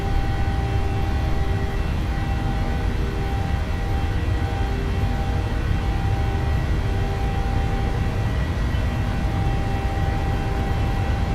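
PMDG 737-800 jet engines spooling at takeoff power during the takeoff roll in Microsoft Flight Simulator, a steady loud broadband roar with sustained whining tones that holds evenly throughout, no voices.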